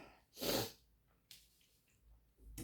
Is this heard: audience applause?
no